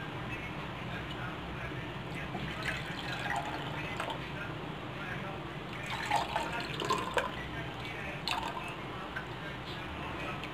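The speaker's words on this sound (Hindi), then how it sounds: "मैं इसे ग्लासेस में डाल देती हूँ।" Phalsa sherbet is poured into glasses, giving a continuous soft liquid trickle with small splashes and drips that stays steady and close throughout.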